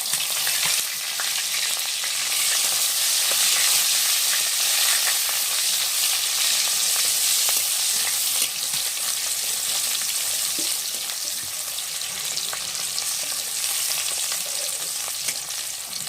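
Chopped onion frying in hot oil for a chicken and taro dish, stirred as it cooks, giving a loud, steady sizzle with faint scraping through the whole stretch and no talking.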